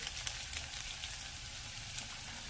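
Ginger hitting hot oil in a pan alongside onion while cooking a raw jackfruit and prawn curry, a steady soft crackling sizzle that runs continuously at low level with no talk.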